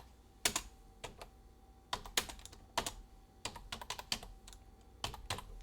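Someone types on a computer keyboard at a desk: quick clusters of crisp key clicks come in short irregular bursts, close and fairly quiet, with no talking.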